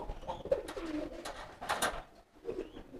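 Homing pigeons coo nearby in soft, repeated throaty calls that overlap in a low, continuous murmur, with no voices.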